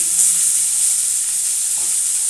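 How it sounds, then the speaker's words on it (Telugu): Chopped cluster beans (guar) frying in a pan with little oil give a continuous bright sizzle and hiss, with a faint stir or two, and no one speaking. "ఈ గోరుచిక్కుడుకాయల ముక్కలు 2 మినిట్స్ ఫ్రై చేసుకుని"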